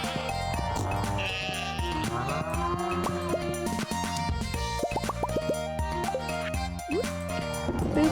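Sheep bleats in the farming video game Stardew Valley ring out over a busy, continuous musical soundtrack, with short cartoonish calls mixed into the steady melody.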